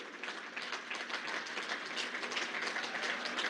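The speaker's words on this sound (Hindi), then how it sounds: "सारे कार्यकर्ता मिलकर के जोरदार तालियों से" Party workers at the opening of a BJP state office in Delhi applaud the Prime Minister. The clapping is dense and continuous but distant and faint, with no speech over it.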